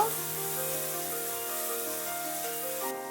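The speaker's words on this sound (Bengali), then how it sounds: "গ্রেট করে রাখা আদা একটি বড় সাইজের পেঁয়াজ কুচি দুই তিনটি কাঁচা লঙ্কা কুচি বেশ কিছুটা রসুন কুচি সবগুলোকে এবারে একসঙ্গে ভালো করে ভেজে নিব" Grated ginger, a large chopped onion, chopped green chilies and garlic fry together in a pan, giving a steady close sizzle under continuous background music.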